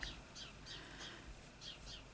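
Small bird chirping outdoors in a yard, a series of faint, high, brief calls repeating at irregular intervals over a soft background hiss.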